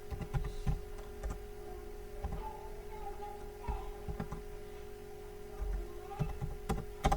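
Typing on a computer keyboard while writing Python code produces close, quiet clicks in scattered bursts with short pauses, over a faint steady hum.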